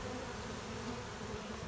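Honeybees stream from holes in a car's door panel, with drones among them, making a continuous close swarm buzz that holds level for the whole moment with no voices.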